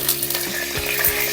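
White oil and ghee sizzle in a hot pan, a brief, dense crackle at steady volume with a couple of soft low knocks underneath.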